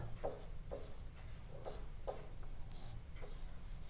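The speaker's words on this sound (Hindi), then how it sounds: "तो हम यहाँ पर लिखेंगे हल लिख करके" A pen or chalk writes out a maths solution in soft, scratchy strokes. Short rubbing scrapes repeat at a steady pace over a faint background hum, with no talking.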